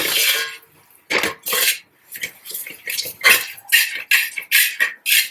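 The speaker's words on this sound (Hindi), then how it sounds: "अब इसमें 2 चम्मच बेसन डालेंगे। इसको अच्छी तरह भूनना है।" Gram flour roasts in a pan for Sindhi kadhi while a spoon scrapes and clatters against the metal in repeated short, close strokes separated by brief pauses.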